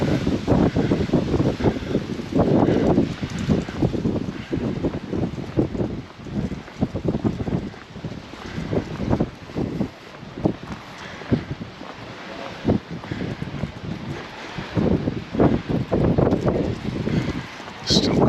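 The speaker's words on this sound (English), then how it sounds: "I'm getting blown along now. Found a windy spot again." Strong wind buffets the microphone nonstop on the seaside at Palmanova, Mallorca, near moored boats, with a loud, rumbling roar that surges and dips throughout.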